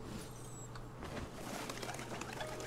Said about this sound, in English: as I promptly scare off a bunch of pigeons